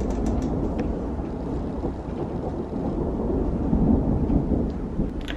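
Continuous low rumbling thunder rolls through steady rain, swelling slightly louder near the end, with no voices.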